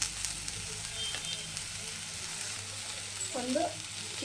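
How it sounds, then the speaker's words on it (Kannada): Cinnamon and cloves fry in hot oil for chicken sambar, giving a soft, steady sizzle with light stirring scrapes, and a brief voice-like sound near the end. "ಚಕ್ಕೆ ಒಂದು ಮೂರು ಲವಂಗ ಹಾಕ್ತಾಯಿದ್ದೀನಿ"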